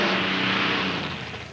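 A modified pulling tractor fitted with six engines revs hard at the National Tractor Pulling Championship in Bowling Green, Ohio, a loud, dense, continuous roar that eases slightly toward the end.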